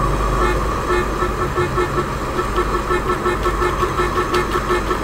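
A car horn honks in a GTA game mod over a steady engine drone and road noise, the sustained tone holding loud and close through the whole stretch.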